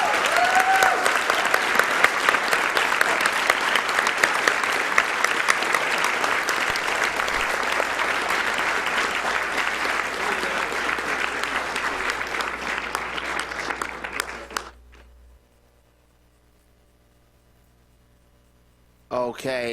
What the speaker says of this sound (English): let's get one big last round of applause for the TASbot